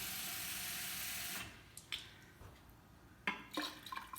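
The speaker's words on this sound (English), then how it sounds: "You can go right from the tap, cold water." Cold tap water runs into a measuring cup with a steady rush that stops after about a second and a half, followed by a few quiet clinks and drips.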